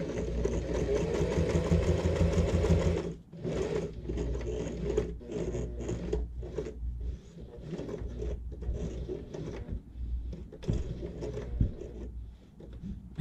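A sewing machine topstitches along the upper edge of a fabric scissor holder, running a steady motor whir for about three seconds, then stopping and starting in short bursts with small clicks and handling noises.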